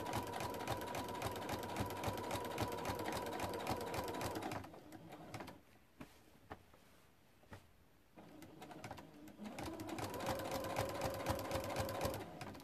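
A sewing machine quilting small circles on appliqué runs in a steady rapid stitching buzz, stops for several seconds of near quiet with faint taps, then starts stitching again; quiet overall, no talk.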